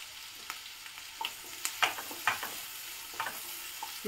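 Carrots and onions sauté in a pan with a soft, low sizzle, while scattered light clicks and scrapes of stirring come through quietly.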